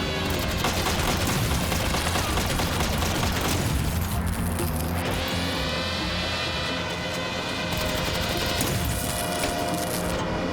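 Dense GTA V Online gunfire rattles in bursts amid booming effects and background music, loud throughout with a brief lull midway.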